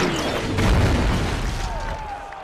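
Cannon fire explosion in a movie trailer, one heavy boom with a rumbling roll-off that lasts a couple of seconds, loud and full.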